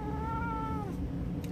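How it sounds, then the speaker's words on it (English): A pet cat gives one drawn-out meow lasting under a second, close and fairly clear over steady low background hum, with no talking. "Here's my kitty."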